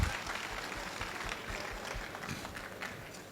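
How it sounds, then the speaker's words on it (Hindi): Applause for the winners at a training event in a large hall on a university campus, a scattered and moderately loud patter of claps that eases slightly toward the end, no talking. "सभी विजेताओं के लिए ताली होनी चाहिए।"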